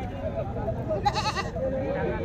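A single goat bleat, wavering and fairly close, cuts briefly through a busy, noisy crowd with people talking throughout at a goat market in Uluberia, Howrah.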